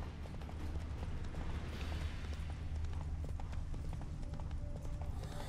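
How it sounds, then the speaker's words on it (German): A horse gallops at full speed in The Witcher 3, its rapid hoofbeats drumming steadily throughout over a low rumble. "So, ich reite einfach mal Vollgas in die Richtung."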